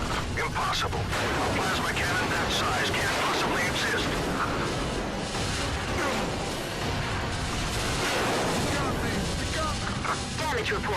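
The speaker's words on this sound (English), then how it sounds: "A large explosion has been confirmed 6 miles away in the city." Rumbling blasts and crackling bursts from a giant plasma cannon striking a city in the EDF 2017 video game, a continuous loud barrage of booms and debris noise with voices speaking over it.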